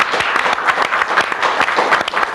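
Studio audience applauding for the Altona Magic soccer team on a 1995 grand final review show, a dense, steady wash of clapping held at even loudness throughout, with no talk over it.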